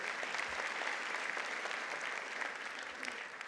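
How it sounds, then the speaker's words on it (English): Steady audience applause fills a graduation ceremony hall for the Kenya School of Revenue Administration, a dense even patter of many hands clapping throughout, fairly loud and unbroken. "Ladies and gentlemen, a round of applause for us today."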